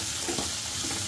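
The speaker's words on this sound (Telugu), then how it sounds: "ఇలా పచ్చివాసన పోయేంత వరకు వేయించుకోవాలి" Minced mutton keema sizzling in a pan with ginger-garlic paste, turmeric, salt and chili powder: a brief, steady hiss of frying, heard up close with no talking.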